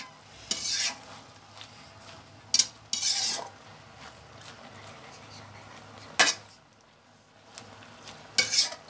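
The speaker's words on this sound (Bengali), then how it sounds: "এখন আমি একটু উল্টিয়ে দিচ্ছি মশলাটা উপরে করে, আর নিচে শাকগুলা দিয়ে দিচ্ছি" Spinach and spices are turned in a pan with a metal spoon, bursts of loud scraping and clinking against a quiet low sizzle, with gaps of near silence between strokes.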